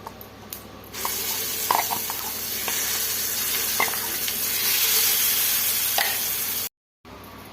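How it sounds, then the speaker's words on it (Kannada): Ground chutney masala hits hot oil with a loud, sustained sizzle and spatter, close up, with occasional stirring clinks and a brief dropout near the end. "ಇವಾಗ ನಾವು ರುಬ್ಬಿಟ್ಕೊಂಡಿರೋ ಮಸಾಲೆನ ಆಯಿಲ್ಗೆ ಸೇರಿಸ್ಕೊಳ್ಳೋಣ."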